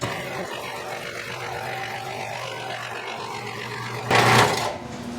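Car lift lowering a 1997 Honda Civic in a workshop: a low steady motor drone for several seconds, ending in a brief loud hiss of released pressure.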